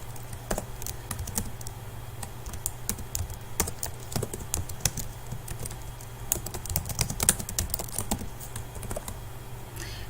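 Fingers type on a computer keyboard in quick uneven bursts of close, crisp key clacks, with short pauses between runs and no talking.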